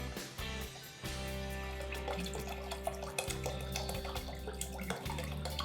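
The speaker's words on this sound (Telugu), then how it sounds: "ఇంకా మిగతా నీళ్ళు పోసేసుకోవడమే" Water pours steadily into a clay bottle, a continuous gurgling stream with a low hum beneath, briefly interrupted a couple of times.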